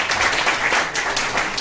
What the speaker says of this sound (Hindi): एक बार जोरदार तालियों के साथ बुलाएं।